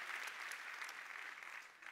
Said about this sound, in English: Give Jerry Skaggs a round of applause.